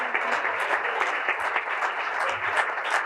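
An audience at a charity fundraiser awards event gives sustained applause, a dense, even wash of clapping from many hands that lasts throughout, with no talking.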